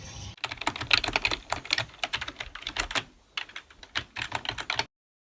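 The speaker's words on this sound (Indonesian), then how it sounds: "Sayuti Malik, ketiklah teks ini dan jaga baik-baik." Sayuti Melik typing the Indonesian proclamation text on a typewriter: a dense run of quick, crisp key strikes in irregular bursts, close and fairly loud, with a short pause near the end and no talk.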